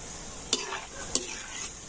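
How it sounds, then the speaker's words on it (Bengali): Jhuri bhaja, the gram-flour strands for chanachur, fry in oil over a low flame with a soft continuous sizzle, while two sharp scrapes of a stirring spoon break through as they are turned. "আর এবারে উল্টে পাল্টে ঝুরি ভাজাগুলো খুব সুন্দর লাল করে ভেজে নেব।"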